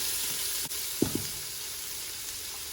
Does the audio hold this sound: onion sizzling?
yes